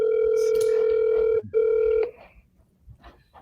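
An outgoing telephone call for a sales conversation is being dialed: a loud, steady line tone holds for about two seconds with a brief break, then cuts off to quiet background noise.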